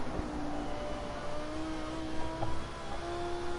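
GT3 race car engine in Project Cars 2 at Brands Hatch, a steady high engine whine with a shift in pitch partway through as the revs change, moderately loud over a constant drone.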